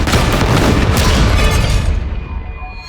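A loud, close bomb blast in the multiplayer shooter Highguard, a deep booming detonation with crackling debris that holds for a couple of seconds before tailing off.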